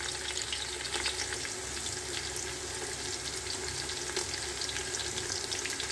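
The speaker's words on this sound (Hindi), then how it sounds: "अभी इन दोनों चीज़ों को थोड़ा सा अच्छी तरह से भून लेंगे।" In a pot for pulao, beef and onions fry with a dense, even sizzle and crackle. It is close and continuous throughout, with occasional faint stirring and no talk.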